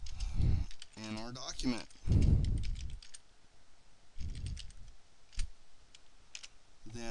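Light clicking of computer keys comes in quick scattered taps while typing into a shared group document, mostly under a man's speech.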